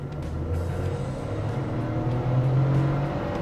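A Proton S70 accelerating in Sport Mode on a road near Balik Pulau, a steady low engine hum from inside the cabin that builds gently in pitch, smooth and moderately loud with no talk.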